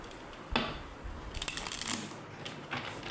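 Tarot cards shuffled by hand during a reading, giving soft papery riffles and brushing bursts at a moderate, close level with brief pauses between handfuls.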